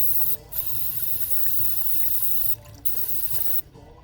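Water sprays in a steady hiss to rinse off a cleaned axle nut from a teardrop camper's Dexter axle, close and continuous, stopping briefly twice before resuming and cutting off near the end.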